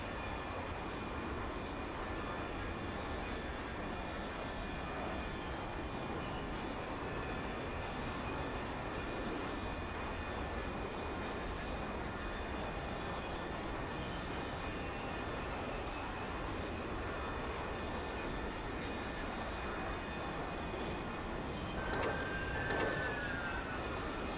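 Steady jet aircraft engine roar in the military game Project Reality, a continuous loud broadband drone holding throughout with a brief whistling sweep near the end, no talking.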